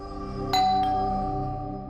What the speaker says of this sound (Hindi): घंटी की आवाज तो सुनाई दी थी।